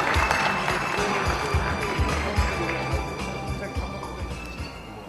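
An audience at the 9th Web Award Korea ceremony claps to welcome a speaker to the stage. The applause is a dense, steady patter of many hands that carries on for the whole stretch and eases slightly toward the end.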